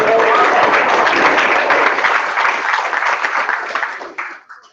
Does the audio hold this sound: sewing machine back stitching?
no